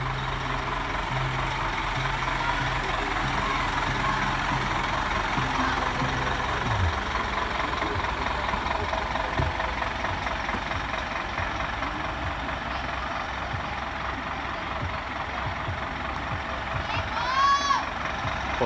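Steady idling rumble of a customized truck engine running throughout, moderately loud and close, with a faint brief whistle-like chirp near the end.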